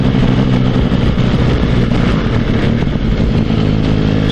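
A motorcycle engine pulls steadily in a higher gear, a loud, continuous mid-range drone with a dense low rumble that holds even throughout, close to the rider with no talking.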